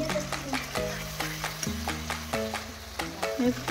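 Chopped tomato and chilli powder frying in a pan for homemade chilli chicken, stirred with a spoon that gives short scraping clatters over a steady low sizzle, close and moderately loud.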